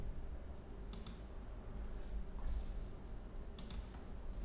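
Quiet clicking of computer keyboard keys as a search phrase is typed, in short separate bursts over a faint steady background hum.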